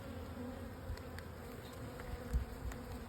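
Honey bees hum steadily at an open hive full of capped brood, a soft continuous drone with occasional closer buzzes of individual bees passing near, no voices.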